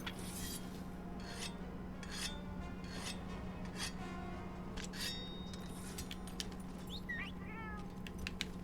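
Whetstone sharpening a weapon in Monster Hunter World, a run of quiet rhythmic rasping scrapes repeating over a steady low game hum, ending in a few brighter metallic rings.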